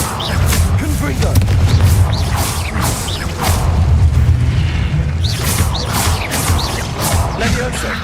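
Spell explosions boom in Hogwarts Legacy, a continuous roar of deep blasts and crashing impacts with whooshing effects, loud and close, while a voice speaks over the action.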